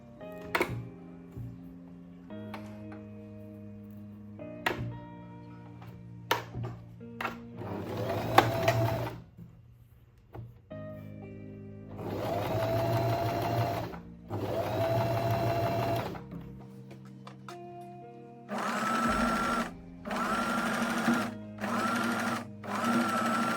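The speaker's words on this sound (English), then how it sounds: "I'm going to stitch just next to this edge" A sewing machine stitches a seam on a puff-sleeve blouse in several bursts of steady whirring, with stops and short pauses between runs, and faint clicks from the handwheel and fabric.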